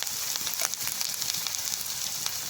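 Spice paste with turmeric fries in hot oil for a boal fish curry, giving a continuous close hiss of sizzling with small crackles and pops throughout.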